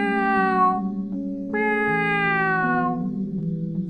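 A pet cat meowing on a coffin lid, two long drawn-out, wavering yowls heard close and clear, the second rising sharply then sliding down, with no talk.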